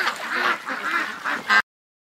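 Ducks in a pen quack loudly and repeatedly at close range in a rapid, overlapping chorus that cuts off abruptly into silence.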